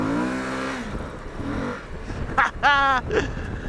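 A Suzuki V-Strom 1050 XT motorcycle downshifts and accelerates, its engine climbing in pitch with a rising rev under a voice, then surging loudly near the end.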